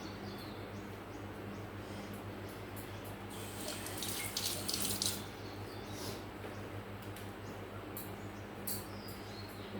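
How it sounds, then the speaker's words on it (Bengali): Hands being washed under a running kitchen tap, a steady close stream of water with brief louder splashing bursts as the hands move through the flow, with no talk. "একটু হাতটা ধুয়ে নিই।"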